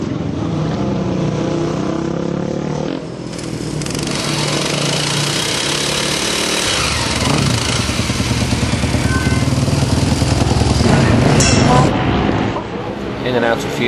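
A Supermono single-cylinder racing motorcycle on the Oschersleben track, Germany, its loud continuous engine note rising and holding as the bike rides out, with some speech mixed in.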